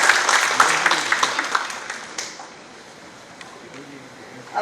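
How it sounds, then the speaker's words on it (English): Round of applause at a hydrogen energy conference welcoming the speakers, steady clapping from the audience that fades to quiet room tone before a new sound rises at the end. "let's please welcome all of them with a huge round of applause"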